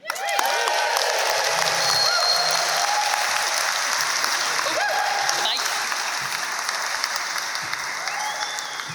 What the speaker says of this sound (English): Please give a hand of applause to Brian's parents, Anne and Kieran.